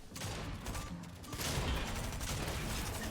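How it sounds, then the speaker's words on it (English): A heavy shotgun in a competitive shooter fires in rapid succession, a dense, faint rattle of blasts layered with other gunfire through a busy firefight. "It's actually crazy how fast the heavy shotgun can shoot like the fire rate."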